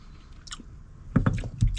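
Chewing on raisins from a First Strike Ration pack: soft, squishy mouth sounds at first, then several close, louder wet bites and chews near the end.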